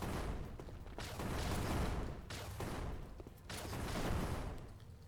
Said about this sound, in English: I think these turrets practically did all the work for me, honestly. Let's just watch them go to town.